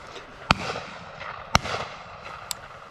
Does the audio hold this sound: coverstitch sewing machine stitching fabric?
no